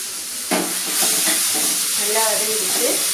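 Chopped banana flower sautéing in a pan, a steady soft sizzle and hiss with stirring scrapes that swell after a brief jolt, close and continuous.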